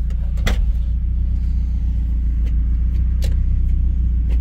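A 1990 Mazda MX-5 Miata with a billet aluminum shifter, driving at a steady engine drone with a brief rise and a couple of clicks or clunks from shifting through the gears, heard from inside the car.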